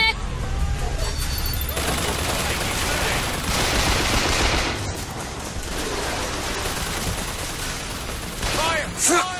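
Sustained bursts of automatic gunfire from the video game Bioshock rattle loudly and continuously, with a shouted voice and game effects mixed in near the end.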